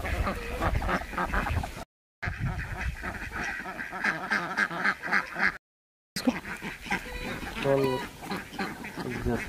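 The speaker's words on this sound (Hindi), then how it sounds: "हाँ देखिए उस साइड जो है पूरा सब बतख है," A flock of ducks on a village duck farm, quacking busily and continuously at close range, with someone talking over the birds in places.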